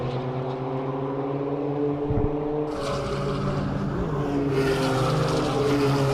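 Race cars at a National Extreme Festival round at Red Star Raceway, engines droning steadily with layered revving tones as a pack passes, loud and continuous with no talk.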